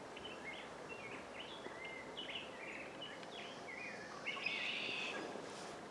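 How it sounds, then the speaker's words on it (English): Several small birds chirp and twitter in a garden in Alberta on a cool spring morning, with short repeated calls scattered throughout and a brighter burst of song near the end over a soft outdoor background. "Just a look at some of our birds."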